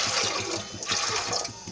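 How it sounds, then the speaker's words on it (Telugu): Water poured into a pot of soaked chana dal (split Bengal gram) in a home kitchen, a steady close splashing, gurgling pour running for about two seconds. "ఇప్పుడు కొద్దిగంత వాటర్ పోసుకుందాం."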